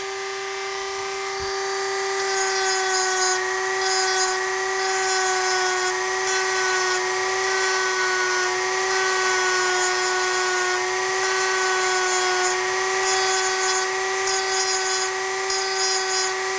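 A power carving tool shapes a large natural-edge wooden bowl with a loud, steady, high-pitched whine. It holds a constant tone the whole time with no pauses.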